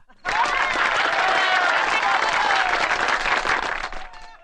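A large crowd breaks into loud, dense applause that starts abruptly and holds steady for several seconds before tapering off at the end.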